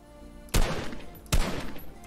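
Two sharp, loud gunshots in the video game Fortnite, spaced under a second apart, each bursting out with a short echoing tail over quiet background noise.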